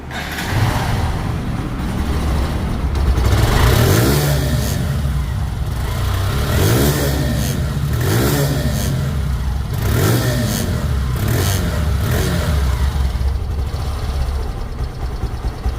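A Hero Ignitor 2024 motorcycle engine runs loud and close, revving up in several repeated surges over a steady rumbling idle.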